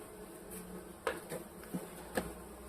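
Honeybees buzzing at an open hive during a beekeeper's inspection, making a faint steady drone with a few short knocks and clicks.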